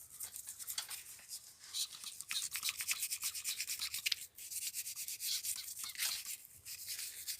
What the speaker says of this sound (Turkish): Şimdi arkadaşlar dişliği temizliyoruz.